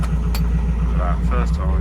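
A Canaline 42 diesel narrowboat engine turning over on a cold start after weeks unused, giving a steady low rumble with brief higher clatter, close and fairly loud.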